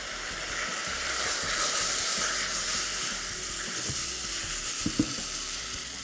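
Beetroot with red chili powder and turmeric fries in a pan with a steady, bright hiss, joined near the end by a few quiet taps of a spoon against the pan, heard close without speech.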